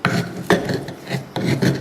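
Garlic is mashed for a Provençal pistou sauce, giving close, gritty grinding and rubbing strokes in quick repeated bursts with no one talking.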